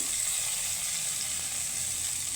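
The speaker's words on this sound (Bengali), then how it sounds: "সাথে আমি রসুনটাকে একটু ভেজে নেব" Garlic frying in a pan of onions already browned red, a steady close sizzle with a bright hiss that holds evenly throughout, no voices.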